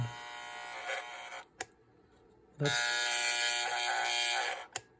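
Telechron Colonnade electric alarm clock buzzing in loud, harsh bursts: a first buzz of about a second and a half, a short pause, then a longer buzz of about two seconds, close and alone with no voices.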